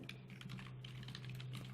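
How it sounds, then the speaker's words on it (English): Computer mouse clicking rapidly and irregularly at a desk during an H5P software workshop, quiet close clicks in quick clusters. "I'm clicking too much."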